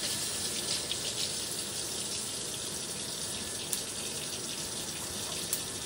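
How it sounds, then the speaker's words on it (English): Hot water runs steadily from a kitchen tap, a continuous close splashing hiss with a couple of small knocks, no voices. "Let me get my hot water."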